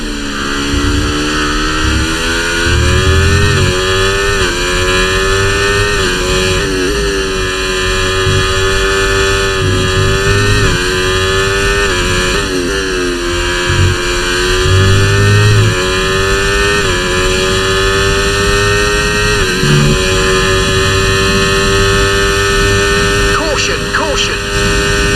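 An F1 race car in the game F1 24 at Monza holds a loud, continuous high-revving engine whine, with pitch sweeping up and dipping through gear shifts, while a voice talks over it.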